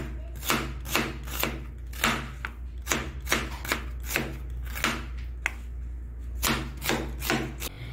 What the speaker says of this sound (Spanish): una cebolla de buen tamaño lo voy a partir ahorita en juliana